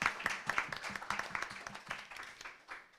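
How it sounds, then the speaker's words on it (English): A small audience claps after a songwriters' circle performance, a short burst of scattered hand claps that thins out and fades within a few seconds. "Can we give her a round of applause?"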